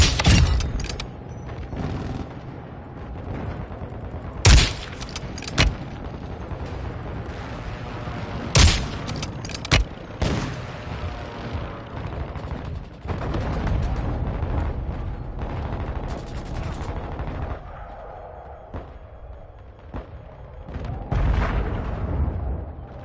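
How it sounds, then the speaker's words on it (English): Airstrike explosions and gunfire in Modern Warfare 2: repeated heavy booms punch through a constant battlefield roar, with sharp shots and distant rumbling continuing throughout, loud and chaotic with several standout blasts. "Friendly airstrike in the AO."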